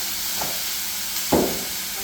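Philly steak meat sizzles in a hot skillet as a steady close hiss, with two brief louder flares as pieces are moved or flipped, and no talking.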